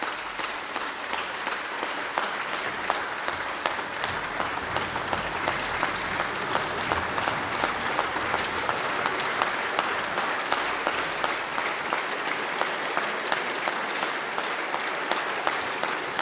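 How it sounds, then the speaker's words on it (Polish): Applause in the Polish Sejm: a large audience claps steadily and loudly for sixteen seconds, a dense, even patter of many hands with no voices over it. "Wasze uprzejme oklaski"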